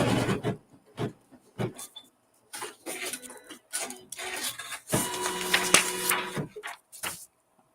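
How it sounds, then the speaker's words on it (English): An embroidery or sewing machine stitches a seam through fabric in intermittent bursts, a busy mechanical chatter with short pauses between runs and a longer, denser stretch near the end, close and fairly loud with no talk. "So now I'm going to stitch a seam."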